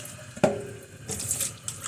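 Water runs from a kitchen tap while a fork and cup are rinsed, a steady splashing stream with a sharp clink of the utensil near the start.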